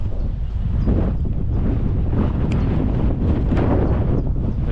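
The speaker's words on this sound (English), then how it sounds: "so I'm getting the wind blowing us" Strong wind buffets the microphone in an open field, a loud, continuous low rumble with gusty surges and no pauses, and no voices.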